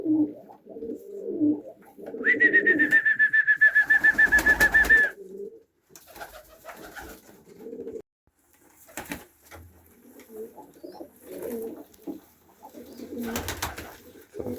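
Pigeons on a freezing winter morning at -15, repeated low soft cooing close by, with a sustained whistling tone partway through and scattered knocks and rustles between coos.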